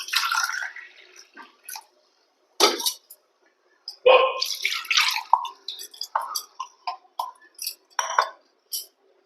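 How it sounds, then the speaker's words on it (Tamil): Water poured from a tumbler into a pan of chicken curry (kuzhambu) in a home kitchen makes short, close splashing and dripping bursts separated by pauses. "அளவா ஒரு டம்ளர் அளவுக்கு தண்ணி ஊற்றிக்கலாம்."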